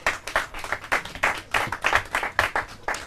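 Applause from a studio audience at a Portuguese quiz show final, with irregular clapping bursts that rise and fall over a few seconds and no talking.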